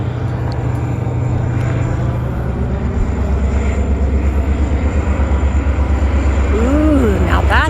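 A passenger train on the Royal Gorge route rumbles past nearby with a loud, steady roar that grows toward the end. A rising and falling tone cuts in near the end, and people talk faintly at times.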